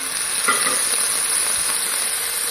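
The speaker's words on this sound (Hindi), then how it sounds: "इन सब चीज़ों को डाल के अच्छी तरह मिक्स करें।" Chili chicken sauces, chili sauce, soy sauce, crushed red chilli and chili garlic, being stirred in a hot frying pan, giving a steady close sizzle with soft scraping of the spoon throughout.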